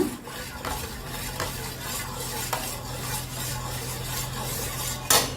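A homemade dishwashing liquid mixture being stirred in a vessel, producing soft, continuous swishing and scraping with a few sharper clinks of the utensil against the container, close and moderately quiet.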